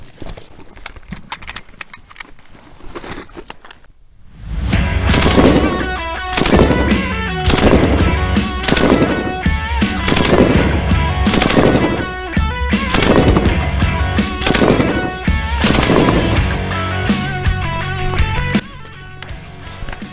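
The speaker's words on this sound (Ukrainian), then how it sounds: "Тобто ця зброя дуже добре підходить для стрільби короткими чергами." An M249 machine gun in Ukrainian service fires a run of loud, sharp short bursts, spaced roughly a second apart, after a few seconds of near-silence. No voices are heard.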